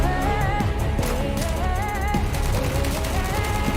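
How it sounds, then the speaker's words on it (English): A minigun in a video game fires a continuous dense stream of rapid shots, loud and unbroken throughout with a tonal mechanical whine riding on top. "Oh, it's like a mini gun."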